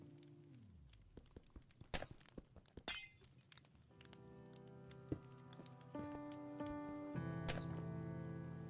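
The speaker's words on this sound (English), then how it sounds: "He says breaking glass or ice is the worst sound in Minecraft." Glass or ice blocks breaking in Minecraft Bedrock Edition, with several sharp shattering crashes scattered across the first few seconds and then layered sustained game tones continuing at moderate level.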